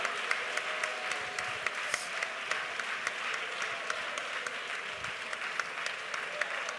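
An audience in a church prayer service claps steadily, a dense, even patter of applause filling the space with a few sharper claps standing out and no talking.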